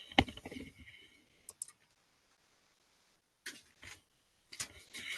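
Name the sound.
mouse click on OK button in OriginPro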